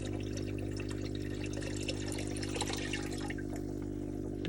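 Rainwater collected in a barrel is poured from a tub, a steady continuous splashing and trickling close by, with no voices.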